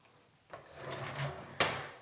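A bathroom drawer slides open with a soft, rising scrape and then shuts with a sharp knock, heard close and alone in a quiet room.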